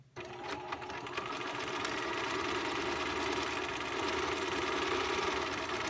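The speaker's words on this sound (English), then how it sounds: "we're going to sew across the top of the one bag, leaving an opening between the straps" A home sewing machine runs steadily as it stitches across the top of a fabric bag, a close, continuous mechanical whir that holds at an even level throughout.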